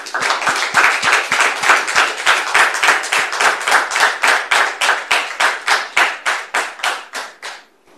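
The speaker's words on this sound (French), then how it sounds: "Public, merci de recevoir son père en question sous vos applaudissements." A studio audience at a televised talk show claps in unison, a loud, steady rhythmic beat of roughly two to three claps per second that slowly fades out at the end.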